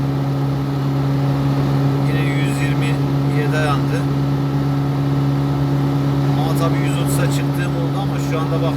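A 1977 Ford Taunus 1.6 GL climbs an uphill stretch on petrol, its engine holding a steady, loud drone heard from inside the car while someone talks over it.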